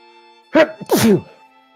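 A single close, loud sneeze in two parts, a sharp intake followed by a voiced burst, bursts out in a quiet room during a tabletop role-playing game session.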